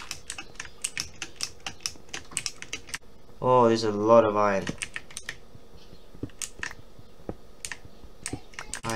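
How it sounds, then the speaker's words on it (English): Rapid clicky computer keyboard typing during Minecraft play: sharp, close keystrokes in irregular bursts that pause briefly while someone speaks, then resume. "if you guys don't like my keyboard, it's too clicky"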